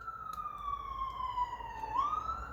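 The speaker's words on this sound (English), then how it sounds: "Sorry about that, that siren noise there." A siren wails steadily at mid pitch, then swoops upward near the end, heard at a moderate distance over low background rumble.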